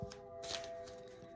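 A deck of oracle cards is shuffled in one brief, soft riffle of papery flicks, heard alone.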